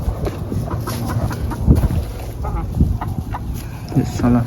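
Roosters on a farm scuffle and fight, giving short, scattered clucks and squawks at close range over rustling and a steady outdoor background, with a person talking intermittently throughout.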